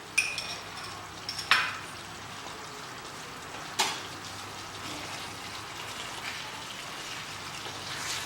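Chicken bhuna masala is stirred in a pan with Kashmiri chili, giving a soft continuous sizzle and a couple of sharp scraping clinks from the spoon, close up.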